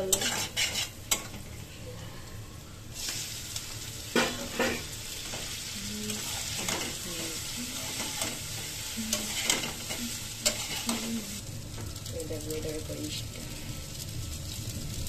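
Turmeric and salt are stirred into food frying in a pan, with scraping utensil strokes and a steady sizzle, while someone talks intermittently over the cooking.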